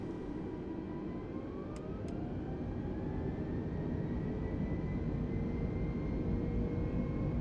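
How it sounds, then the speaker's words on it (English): Airliner taking off in Microsoft Flight Simulator on a rolling start from a short runway, a steady loud jet engine roar with rising whine as thrust builds, two brief clicks early on, no talk. "Avianca 116 taking off runway 35 left, departing to the northeast."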